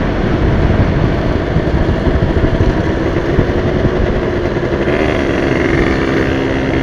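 A Yamaha V80 two-stroke motorcycle engine drones loud and close and holds steady during a top-speed run. The rider is in a high gear and the note never lets up.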